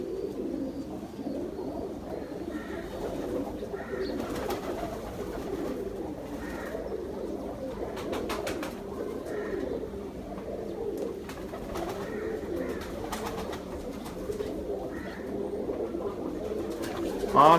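Teddy pigeons cooing softly in a loft, repeated low throaty coos in an irregular rhythm over a quiet background, fairly close, with a brief sharper noise at the very end.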